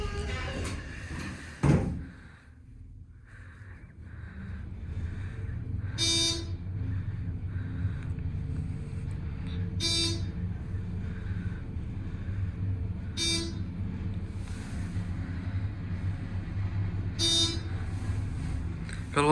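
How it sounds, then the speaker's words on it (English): A Dover buzzer in an elevator at a historic building sounds as a series of short, sharp buzzes spaced evenly apart, above the steady hum of the cab running. "Gotta love that Dover buzz."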